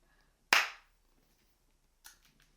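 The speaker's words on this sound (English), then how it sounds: "Do another clap." One sharp, close hand clap for audio sync in a quiet room before a film review, followed by faint small knocks and rustles.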